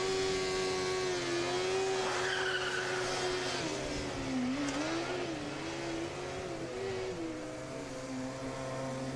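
Formula SAE race car launching at an autocross event, engine note climbing and wavering as it pulls away at moderate distance, with a faint tire squeal early on and a steady background hum.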